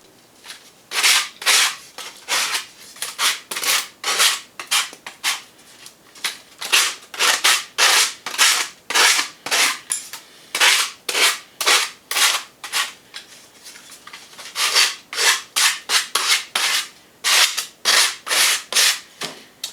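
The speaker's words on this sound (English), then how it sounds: "I'm just going to run a sanding block around it" A sanding block rubs back and forth on the edge of a wooden router template in repeated rasping strokes, steady rhythm, close up, with no voices.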